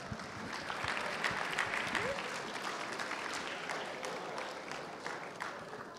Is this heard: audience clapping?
yes